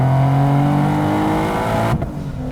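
A supercharged Nissan 370Z NISMO with a VQ37 engine tuned past 700 hp revs loud and close, a sustained high engine note that holds steady then cuts off abruptly near the end.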